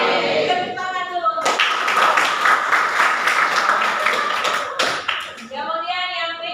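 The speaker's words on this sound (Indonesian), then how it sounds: "Tepuk tangan dulu." Classroom applause from students during a cooking lesson, a dense burst of clapping lasting several seconds after a teacher's speech.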